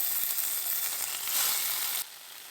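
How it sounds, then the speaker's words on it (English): Hot toasted sesame oil sizzles and crackles steadily with tofu frying in a preheated pan, close by, then drops abruptly to a quieter hiss. "a touch of toasted sesame seed oil into the bottom of a preheated frying pan"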